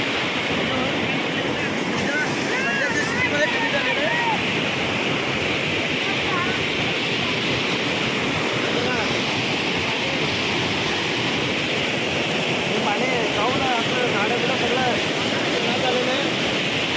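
Floodwater rushes over a village stream after heavy overnight rain, a steady, loud broadband roar of churning water close by that never lets up, with wind buffeting the microphone.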